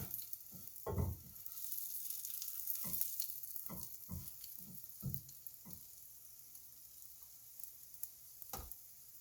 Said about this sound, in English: Grilling every side. Swirl it in the butter a little bit.